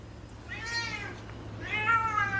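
Two drawn-out cat meows, close and fairly quiet, the second slightly longer, over a faint low hum.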